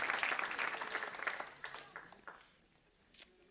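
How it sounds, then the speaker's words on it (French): A church congregation applauds the Lord during a sermon; the clapping starts fairly full, thins out over a couple of seconds and ends with a few scattered, fainter claps. "Allez, on applaudit pour de vrai le Seigneur."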